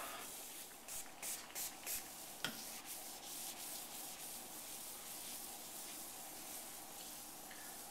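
Short bursts of sealer spraying onto a granite countertop in the first seconds, followed by a sustained soft rubbing sound of fingers rolling it onto the stone edge, quiet and close.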